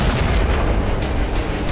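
Missile strikes hit a hydroelectric power plant in Kremenchuk, Ukraine, with loud, heavy explosive rumbles that roll continuously and include sharper bursts near the end.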